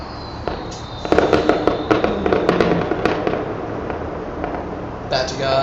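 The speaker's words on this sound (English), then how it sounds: "Fireworks." Fireworks bursting outside a hotel in Portland, Oregon: a rapid volley of sharp cracks and bangs, fairly close and loud, over a steady outdoor background, with a person's voice mixed in.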